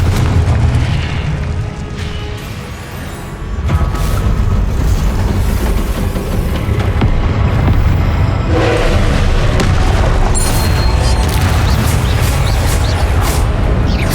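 Spell explosions from Confringo and Incendio in Hogwarts Legacy boom continuously, loud and close, with overlapping blasts and bursts layered into a dense rumbling barrage.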